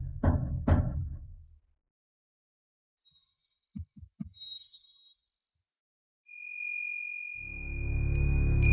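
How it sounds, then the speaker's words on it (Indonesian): Metallic chimes tinkle briefly, then a single bright ring lingers, with soft low thumps and a rumble around them. "Bagaimana lonceng angin ini bisa berbunyi tanpa angin?"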